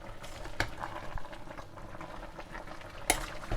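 A spoon stirs vegetables and coconut through a bubbling pot, scraping and clinking against the sides twice amid a soft, steady simmer close by.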